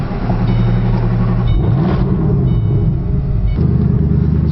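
A twin-turbocharged Shelby Code Red concept car of over 1,000 horsepower rumbles steadily up close, a deep engine note that shifts pitch in the middle.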